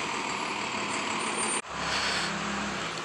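A FedEx delivery truck idles nearby with a steady, loud engine rumble and a brief dip partway through before the drone resumes.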